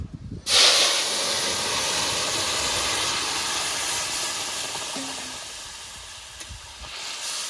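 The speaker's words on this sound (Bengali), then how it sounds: "দুটো তেজপাতা দু তিনটে শুকনো লঙ্কা কটা গোটা জিরে তরকারিটা সোমবার দিয়ে দেবো" Bay leaves, dried red chillies and whole cumin seeds hit hot oil with a sudden loud hiss that settles into a steady, close sizzle, slowly easing over several seconds with no voices.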